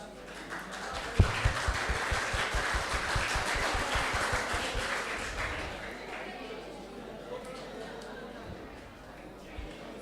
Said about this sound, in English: I only want to hear clapping.